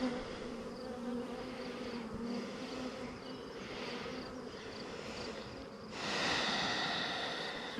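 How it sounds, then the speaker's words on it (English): Many honeybees buzz steadily during a hive inspection, a dense close drone that swells louder near the end, with no talk. "there are a lot of bees flying up at you when you're doing an inspection"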